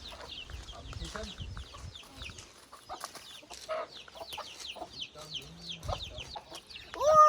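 Chickens and small chicks cluck and chirp close by at a farm in Cappadocia, with repeated short calls and some distant voices in the background.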